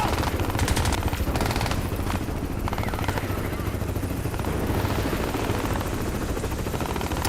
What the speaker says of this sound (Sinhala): හෙලිකොප්ටර් එකත් ඇවිල්ලා දුවන්දා